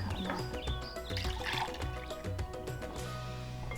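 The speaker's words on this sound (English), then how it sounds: "Pour the milk." Milk poured into a bowl of wet ingredients for vegan pancakes, a close, steady liquid glug and trickle running for several seconds with faint kitchen clinks.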